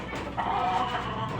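A three-month-old hen that has just begun laying gives a short, soft clucking call, heard close and alone for about a second and a half.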